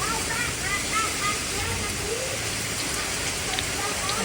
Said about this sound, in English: the rain is just bouncing off of the concrete